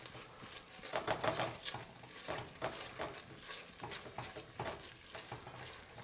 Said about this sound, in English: we're going to go in with a couple tablespoons of tomato paste. So you just want to get that in there and kind of stir it around.